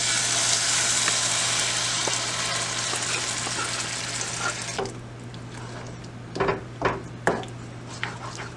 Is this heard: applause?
no